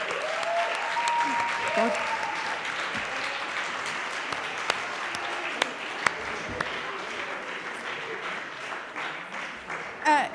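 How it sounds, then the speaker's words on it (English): A hall audience applauds election candidates at a student union election, a sustained wash of clapping with a few sharper claps, while a voice speaks over it. "Give them a round of applause"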